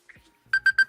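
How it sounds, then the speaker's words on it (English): An alarm sounds in short, evenly spaced electronic beeps, four bright pulses in quick succession after a faint brief tone, fairly loud and close. "That's the alarm."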